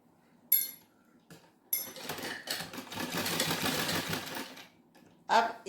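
A sewing machine stitches the lining of a blouse in short bursts, with a sustained run in the middle and quieter gaps between, while a voice speaks between the bursts.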